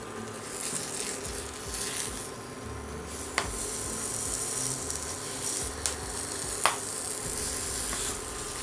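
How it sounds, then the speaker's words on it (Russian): Pork belly skin searing in a hot pan, a steady dense sizzle and crackle throughout with a few sharp pops, close and unaccompanied. "Обжарили шкурку и снимаем на тарелку."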